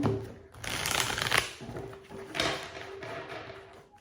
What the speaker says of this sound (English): I'm going to shuffle just a little bit.